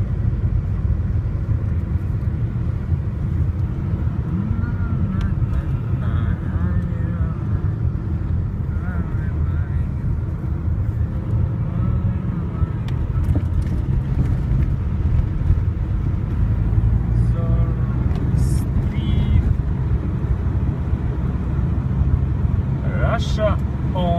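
Road traffic on a street in Ufa, Bashkortostan, Russia, in February: a constant low engine rumble and tire noise from passing cars, loud and close, running steadily throughout.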